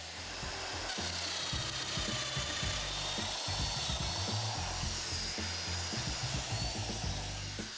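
A domino joiner cuts loose mortises into a panel for a mobile MFT cart, a close, buzzing power-tool whir with repeated short plunges and bursts running throughout, no voices.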